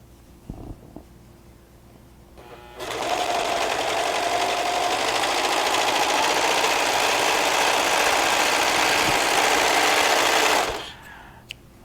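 A Brother serger sewing machine runs steadily at close range for about eight seconds, a dense continuous whir with a faint hum, starting abruptly after a few light clicks and stopping just as suddenly.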